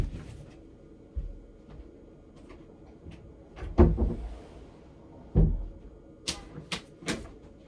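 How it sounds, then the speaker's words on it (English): A door closes indoors with a few sharp knocks and thuds, a louder bang near the middle followed by scattered clicks and rattles, all fairly close with no talking. "I'm gonna go close the door."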